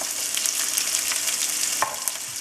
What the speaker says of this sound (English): Fry the onions for a good couple of minutes so that it starts changing its color.